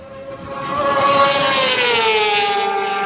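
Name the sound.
vehicle coming off a curve and passing by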